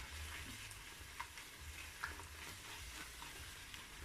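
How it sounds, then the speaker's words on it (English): Jollof rice sauce with only a little oil sizzles in a pot, a soft continuous frying hiss broken by faint stirring scrapes, heard alone at low volume. "So I've been frying this for at least 15 minutes, but I'm still going to fry for another 5 minutes."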